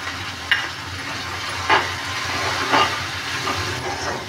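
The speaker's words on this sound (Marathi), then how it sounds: "थोडासा आपण आता कांदा असा सवतळूया, थोडासा सवतळला" Onion sautéing in a pan, a steady close hiss of frying broken by a few brief stirring clinks, with no talk.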